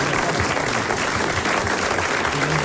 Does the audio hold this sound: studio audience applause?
yes